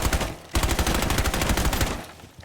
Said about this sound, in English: I'm going to want to use my Reaper pistol here